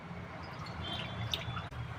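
Milk poured into a pan with ghee, a faint close liquid trickle with small drips and a gentle gurgle, quiet and steady, no voices.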